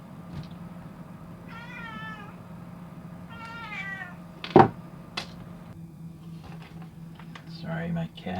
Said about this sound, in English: my cat wanted out of the room.